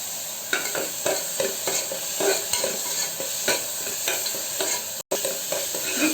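Ginger garlic paste frying in hot oil while being stirred, a continuous bright sizzle with rhythmic spatula scrapes roughly every half second, close and without speech, briefly cut out near the end.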